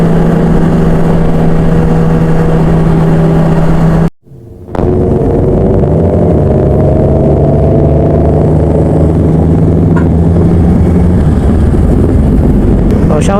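Motorcycle riding on a road during a group ride of a Batangas riders' club in Sto. Tomas, a loud, steady engine drone with a brief dropout partway, then continuous riding noise with shifting engine pitch.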